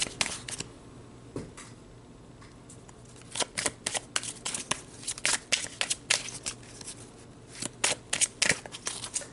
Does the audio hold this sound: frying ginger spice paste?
no